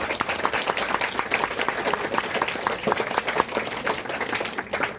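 Dense, sustained applause from an audience at a school workshop, many hands clapping rapidly and steadily at close range for the full stretch, with a faint murmur of the crowd beneath.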